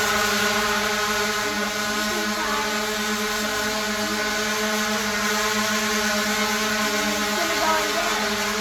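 A small camera drone flies toward the recording position, its motors giving a steady, sustained buzzing whir with layered tonal hum, loud and close throughout, with no talking.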